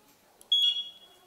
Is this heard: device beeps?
yes